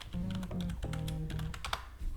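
Rapid, uneven keystrokes clatter on a computer keyboard in quick bursts, close up, with a low tonal hum from game audio running underneath.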